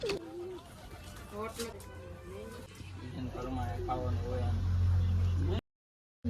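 Pigeons cooing in a rooftop loft: repeated soft, warbling coos close by, with someone talking throughout and a low engine-like hum underneath.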